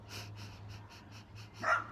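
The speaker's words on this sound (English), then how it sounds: "you're going to breathe in very quick staccato breaths for 6 counts" Quick staccato breaths drawn in during a breathing exercise, about seven short evenly spaced puffs in a steady rhythm, close and fairly quiet, ending with a stronger breath.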